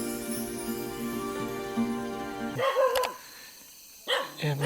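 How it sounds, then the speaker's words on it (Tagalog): Dogs bark at night near open-walled houses of a cave-dwelling community, several sharp barks cutting in loudly over a droning hum, with quieter gaps between bursts. "Malalim na ang gabi nang maalipungatan ako sa mga tahol ng aso."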